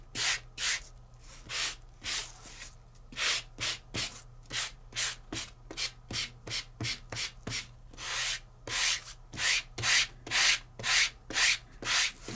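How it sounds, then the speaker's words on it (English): Rhythmic hand sanding strokes on embossed color core paper, about thirty short rasping swipes back and forth, close and distinct with brief pauses between them. "And you're sanding to a lighter shade."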